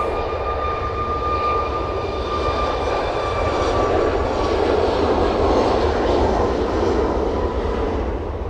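A Malta Air jet operated by Ryanair takes off at Manchester Airport. Its engines give a loud, sustained roar with a whining tone, steady and close for the whole stretch, with no talk.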